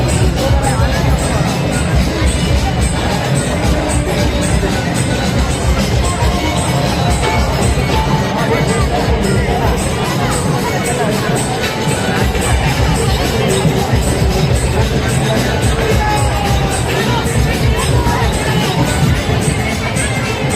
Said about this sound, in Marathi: पाहू शकता मित्रांनो गर्दी किती संख्यामध्ये जमलेली आहे